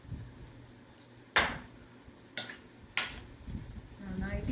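A spoon stirs yogurt through a salad in a bowl, giving three distinct clinks and scrapes against the dish over a soft room background.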